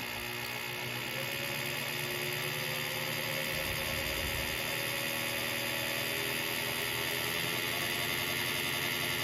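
A 1970 Pontiac Ram Air III V8 idling steadily at about 1400 RPM, with an original distributor, giving a continuous dense engine hum with a faint mechanical whine, close and loud throughout with no talking.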